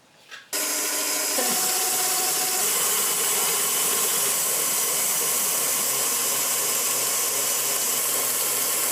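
Electric mixer whipping vegan meringue mixture, a steady loud motor whir running continuously after it switches on, with the beaters' tone shifting slightly as sugar is added.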